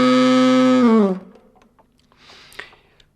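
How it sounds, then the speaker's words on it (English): Growled saxophone note, a raspy buzzing tone held for about a second and then sliding down and dropping away, followed by faint room noise and small clicks. "The saxophone growl then sounds a bit like this."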